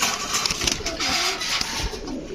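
Several pigeons coo nearby in low, throaty burbles, with a few soft flaps and scuffles in the background.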